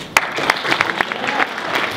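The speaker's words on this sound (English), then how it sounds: "we should give them a round of applause right now." A banquet crowd at Grand River Academy's winter sports dinner applauds the team, with several sharp claps standing out from a brief, moderately loud patter of hands.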